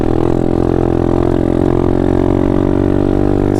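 A pit bike's small single-cylinder engine runs steadily while being ridden out toward a hill, a continuous loud mid-pitched drone with even harmonics and no clear revving changes, alone without talk.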